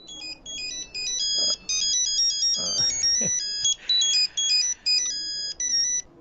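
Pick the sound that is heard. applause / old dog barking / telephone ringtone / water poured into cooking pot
telephone ringtone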